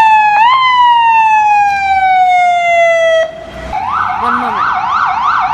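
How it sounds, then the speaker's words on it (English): A loud ambulance siren passes close by, first a long steady wail that slowly falls in pitch, then a rapid rising-and-falling yelp as it moves on. A voice speaks briefly. "Every time an ambulance goes by, I am so thankful that I am not in that ambulance."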